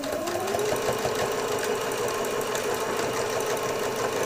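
A sewing machine runs steadily through thick layered fabric while making a back stitch on a divided caddy, giving a close, continuous whirring hum with no pauses.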